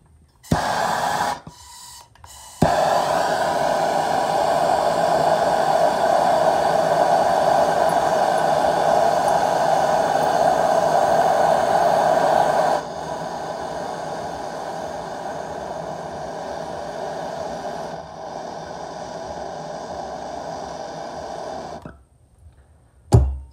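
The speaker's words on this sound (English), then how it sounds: "I'm going to take a torch and I'm going to try to heat up and see if I can remove this." A torch roars steadily for about twenty seconds, heating an old ceramic Pentium CPU to melt its solder, with a loud continuous hiss that drops in level partway through before cutting off.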